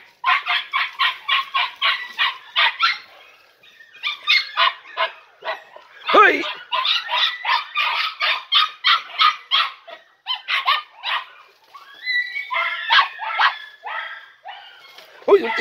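A litter of Andalusian podenco puppies barks and yips in rapid, high-pitched bursts, loud and close, with brief pauses between excited volleys.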